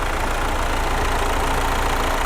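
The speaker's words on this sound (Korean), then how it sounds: "엔진 소리 일정합니다." A Mercedes-Benz C200d diesel engine idles steadily, a constant low rumble with an even mechanical chatter, close and loud throughout with no talking.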